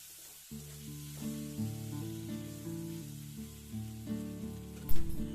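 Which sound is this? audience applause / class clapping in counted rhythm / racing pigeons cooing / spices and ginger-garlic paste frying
spices and ginger-garlic paste frying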